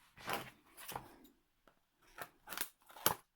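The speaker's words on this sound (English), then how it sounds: "And I need the scissors." Scissors snip several times in quick, crisp bursts, close to the microphone, with short pauses between cuts and a sharp metallic click at the end.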